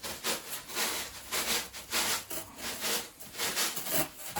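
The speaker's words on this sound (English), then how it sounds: "What I do on the top edges, I get a hacksaw." A hacksaw dragged along the edges of cured fibreglass ribs on an Orkney 23 sea fishing boat, giving a close, steady series of rough scraping strokes at a quick, even rhythm with no voices.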